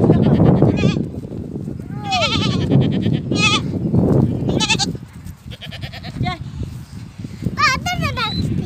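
Goats and young kids bleat in repeated wavering calls on a farm, loud and close, with people talking over and between the cries.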